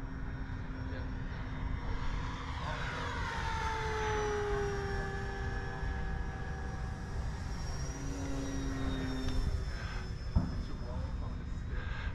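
A radio-controlled model airplane engine drones steadily in flight, its pitch sweeping up and down as the plane passes, heard throughout beneath wind noise with people talking nearby.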